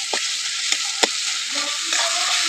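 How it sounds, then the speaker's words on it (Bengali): Spice masala with chopped coriander being stirred and fried in a pan, a steady close sizzle broken by a few sharp scrapes of the spoon, with no talking. "এবারে কয়েক সেকেন্ডের জন্য আমি এটা ভালোভাবে একটু নাড়িয়ে চাড়িয়ে একটু রান্না করে নেবো মশলাটা।"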